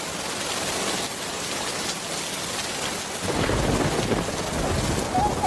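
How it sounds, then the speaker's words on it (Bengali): Heavy cartoon rainstorm: a loud, steady downpour hisses throughout, swelling into a deep rumble of thunder in the second half, with no speech. "বৃষ্টি তো থামছেই না রে।"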